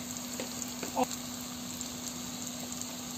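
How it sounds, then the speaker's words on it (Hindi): Ground spices, including red chili, turmeric, coriander and chicken masala, fry quietly in a pan for malai chicken gravy, giving a soft steady sizzle with a brief stir near the middle. "अब मैं इसे अच्छी तरीके से फ्राई करके इसमें थोड़ा सा पानी डालूंगी"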